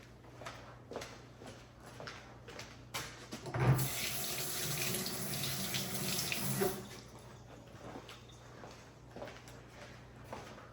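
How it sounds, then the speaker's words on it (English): Hands are rinsed under a kitchen tap, a steady near rush of running water lasting about three seconds that rises over a quiet room, then stops, with faint handling sounds on either side. "I'll rinse my hands off because they're sticky"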